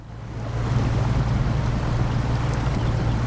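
A truck fords water in the SnowRunner video game, running without a snorkel. A steady, loud rush of churning water and low engine drone fills the whole stretch after a brief build at the start.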